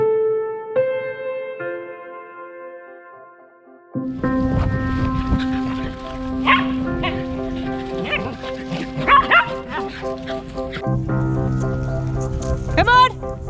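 Dogs barking off leash in a large city park, several scattered barks and yips mid-distance over outdoor ambience and a low musical tone, with a few short bursts near the end.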